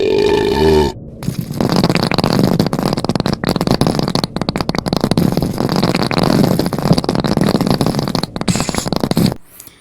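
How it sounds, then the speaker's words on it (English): Continuous loud, crackling farting that rattles on for several seconds without a break, close and harsh, after a brief tonal sound at the start. "the final stage is continuous farting"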